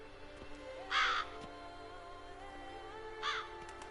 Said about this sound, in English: He has a lot of crows following him.